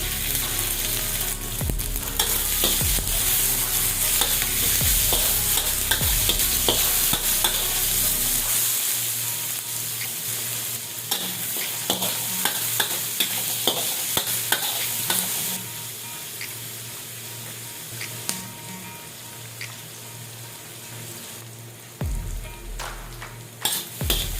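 Onion fries in a pan for a rice noodle snack, with a loud, continuous sizzle and repeated scraping stirs close by, steady throughout with no talking.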